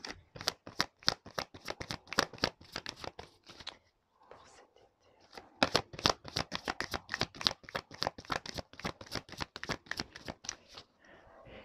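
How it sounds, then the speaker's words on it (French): A deck of oracle cards shuffled by hand, rapid soft flicking riffles in long runs with a brief pause midway, close and quiet, with a faint whispered voice. "J'ai du mal à mélanger."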